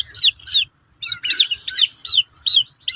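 Turkeys and chickens in a poultry flock give loud, close, repeated clucks and calls in quick bursts with short pauses between them.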